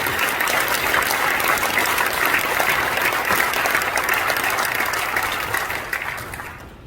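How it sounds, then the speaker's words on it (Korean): Dense, loud applause from a large church general assembly audience, a steady wash of many hands clapping throughout before tapering off at the end. "박수 한번 뜨겁게 쳐드리겠습니다."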